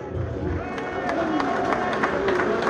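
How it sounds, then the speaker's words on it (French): A crowd applauds a volunteer host at an outdoor rally in defence of hunting and rural life in Mont-de-Marsan, a steady dense patter of clapping that fills the whole stretch with a murmur of voices beneath. "Vous pouvez l'applaudir."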